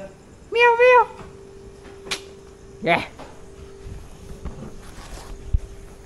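A cat meows once from up above, a short rising-falling cry, followed by a few faint clatters and a brief voice against a quiet outdoor background on the Konkan coast, Maharashtra.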